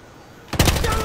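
An MPX submachine gun in Battlefield Hardline opens up in a loud, rapid automatic burst that starts abruptly after a quiet moment and keeps firing to the end.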